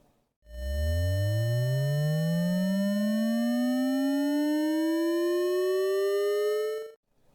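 A smooth electric whine from a frequency converter using a single pulse frequency, rising steadily in pitch for several seconds, with layered harmonic tones gliding upward together, then stopping abruptly.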